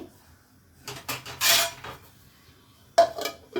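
A lid set down on a steel pot of milk and water heating for sabbakki payasa, giving a few sharp metallic clanks and rattles close by, with a burst of clatter partway through and another clank near the end.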